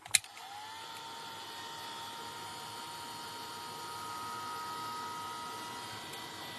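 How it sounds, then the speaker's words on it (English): A handheld heat tool blows hot air over an art journal page in a notebook, a steady close whooshing drone that holds level after a sharp click at the start, with no talking. "we're going to give that a blast with our heat tool"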